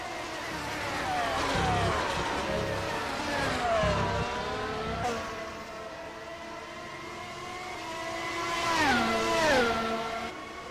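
Formula 1 race cars in the rFactor 2 sim at Montréal, engines whining and shifting pitch as cars run close together, with a loud rising-and-falling pass near the end.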